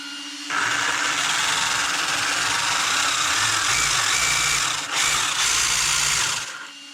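An electric motor in an Associated B74.2 RC car whines at maximum throttle, a loud, steady high-pitched buzz that kicks in abruptly, holds for several seconds with a brief dip, then cuts off.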